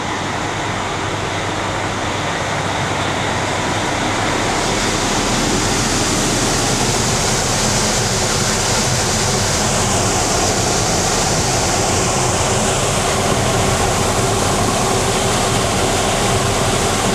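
Repaired evaporator blower motor on an MCI 102DL3 bus running after a fix, a loud, steady broadband rush of forced air with a low hum underneath that holds for the whole stretch, no talking.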